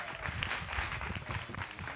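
Audience clapping during a live comedy show, a brief, busy burst of applause with crowd noise, fairly distant and dense for a couple of seconds.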